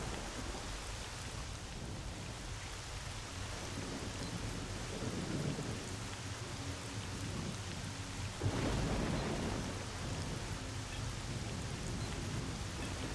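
Thunderstorm in the S.T.A.L.K.E.R.: Shadow of Chernobyl video game: steady heavy rain hisses throughout, with a low rumble of thunder near the middle and a stronger thunderclap later. No one speaks.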